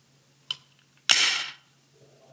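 A Glock 43X pistol's slide being worked by hand, giving a short metallic click, then a longer sliding rasp and a final snap, crisp and close against a quiet background.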